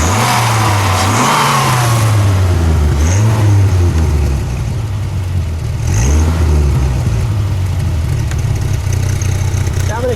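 The engine of a black 1995 Dodge Viper RT/10 runs loud and close, idling with a deep rumble and blipped several times into short revs that rise and fall back to idle.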